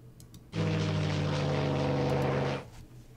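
A tactical bomber's propeller engines drone in the WW2 strategy game Strategic Command WW2, a steady, loud, harmonic hum that starts abruptly, holds for about two seconds, then cuts off.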